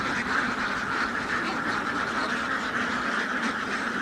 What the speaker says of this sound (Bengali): দেখেন মাশাল্লাহ কত সুন্দর হাঁস